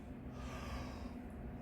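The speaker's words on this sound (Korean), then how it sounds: "자연스럽게 실제로 하품을 하세요." A slow, breathy yawn done as a relaxed voice-training exercise, a quiet, airy drawn-out breath lasting over a second with no words spoken.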